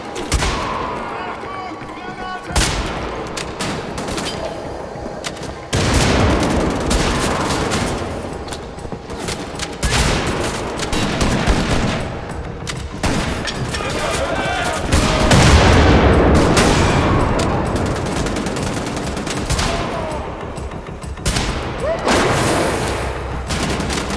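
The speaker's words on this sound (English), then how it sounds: "They also gave the shot sound effects a bit more gravitas, which was a criticism on the previous game for sounding underwhelming." Repeated heavy shotgun blasts from a first-person shooter with zombie Nazis, booming loud and close in irregular bursts over continuous game action and effects.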